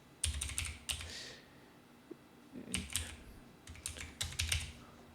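Rapid clattering keystrokes on a computer keyboard come in several short bursts with brief pauses between them, close and fairly quiet, and no voices are heard.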